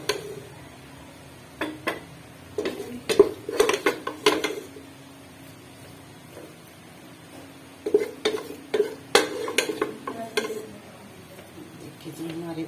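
Dishes and cutlery clink and clatter in scattered bursts while aloo gajar methi curry is plated, with quiet gaps between the clusters of knocks and scrapes.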